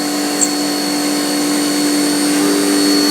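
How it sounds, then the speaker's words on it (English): A CNC mill drilling out metal for a bolt action pen, a loud, steady mechanical whine with fixed high tones over a constant hiss, running evenly throughout with no talk. "Right now it's just drilling to get rid of a bunch of the material."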